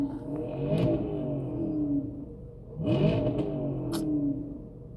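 Cars rev and accelerate nearby on a street, two engine surges rising and falling in pitch one after another, loud and close.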